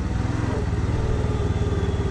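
A motorcycle engine runs in first gear as the rider eases out the clutch and accelerates, a close, steady throbbing drone with a fast regular pulse and no speech over it.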